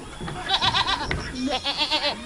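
Small young goats on a farm let out a few short, wavering bleats close by, and soft background voices can be heard between the calls.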